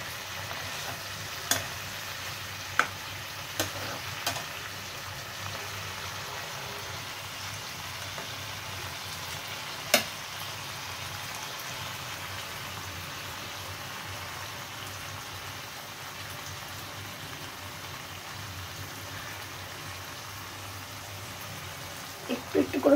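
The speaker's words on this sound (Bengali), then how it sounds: "একটু একটু করে মশলার জল ছড়িয়ে দিচ্ছি।" Spiced water sprinkled into a pan of parshe fish and eggplant sets off a soft, steady sizzle with a few sharp pops and clicks, while someone talks quietly over the cooking.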